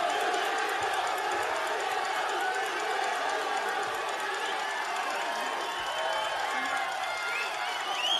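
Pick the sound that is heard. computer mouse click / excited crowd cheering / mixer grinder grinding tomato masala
excited crowd cheering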